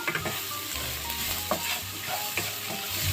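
Chopped onions drop into hot oil for a homemade aloo samosa filling, giving a steady close sizzle with a few stirring scrapes and knocks against the pan, no voices.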